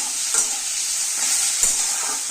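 Onion, tomato, ginger and garlic stir-fried in a pan for egg curry give a steady, close sizzle, with a couple of soft stirring scrapes and no talking.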